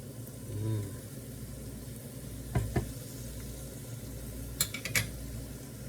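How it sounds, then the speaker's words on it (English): Garlic sizzles in a hot pan with pork, a steady frying hiss broken by a few sharp clinks and stirring knocks. "And now I'm going to throw in a big mound of garlic."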